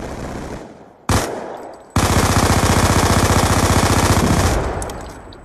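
MP7 submachine gun in Black Ops 2 firing a short burst, a gap, then a long sustained automatic stream for about three seconds, loud and close, dying away at the end.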